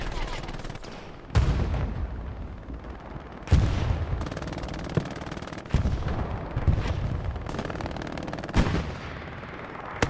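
Loud battlefield gunfire crackles in bursts during a night bombing run in the video game Hell Let Loose, with sharp explosive booms landing several times over a dense roar.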